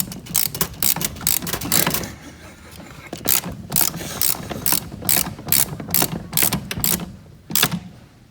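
A ratchet clicks in quick bursts while tightening a nut during assembly of a 1300 W electric ATV, crisp and close, with brief pauses between runs of strokes.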